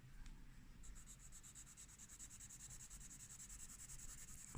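A 2B pencil rubs back and forth across paper while shading, a soft, quiet, continuous scratchy rasp with a faint high hiss, no talk over it.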